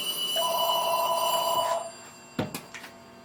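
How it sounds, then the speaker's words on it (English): A telephone bell rings in a steady electronic burst for over a second, then cuts off, followed by a few brief sharp clatters like a handset being picked up. "The phone is driving us nuts today."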